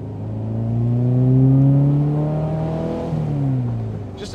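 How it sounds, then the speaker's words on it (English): A 1970 Porsche 914 four-cylinder engine accelerating on the road, its note climbing through a gear, dipping at a shift and rising again, loud and close for several seconds. "It's got great acceleration from this four-cylinder."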